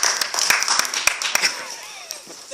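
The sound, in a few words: audience clapping at a workshop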